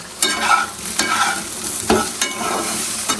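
Vegetables sizzle as they fry in a hot pan while a utensil scrapes and stirs in several distinct strokes, close and fairly loud.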